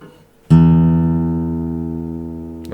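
The open low E sixth string of a guitar is plucked once and rings out clearly, sustaining and slowly fading.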